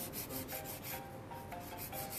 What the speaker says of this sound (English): So I'm going to begin filing the nail.